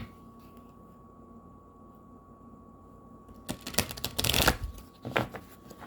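Angel oracle cards shuffled briefly after a quiet stretch with a faint steady hum, a few close papery riffles and snaps near the end.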